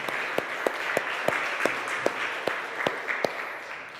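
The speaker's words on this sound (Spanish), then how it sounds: "Un aplauso al Señor" Steady, rhythmic clapping at a church service, roughly three even claps per second, over a constant background murmur.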